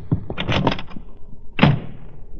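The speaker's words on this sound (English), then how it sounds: "With a slam of the door, Miss Loring was gone" A door slams shut in an old-time radio detective drama, one sharp loud thud after a brief burst of muffled activity, ringing out alone with no voices.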